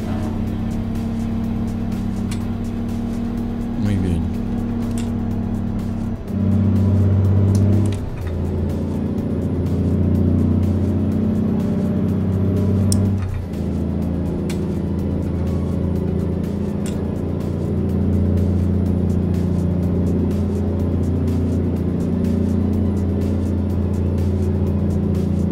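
An International Transtar 4070A cabover truck with a 13-speed gearbox, in a video game, climbing La Rumorosa: a steady loud diesel drone that rises in pitch, drops at a few gear changes, then pulls on continuously.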